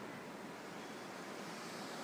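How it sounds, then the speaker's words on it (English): Ocean surf washes outside a beachfront condo at a marina resort, a steady, faint, continuous hiss of breaking waves heard from a distance with no voices. "You can hear the ocean."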